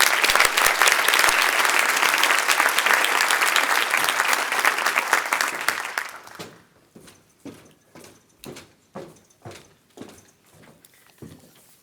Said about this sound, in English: Let's have a round of applause for them again.